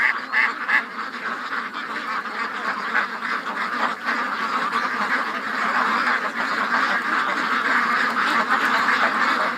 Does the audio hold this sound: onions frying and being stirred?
no